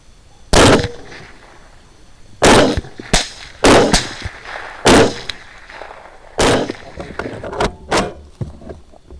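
Rifle shots fired during a hog hunt ring out as loud, sharp cracks, about seven spread unevenly across the stretch with gaps between, plus a few fainter knocks and handling clatter, outdoors with no talking.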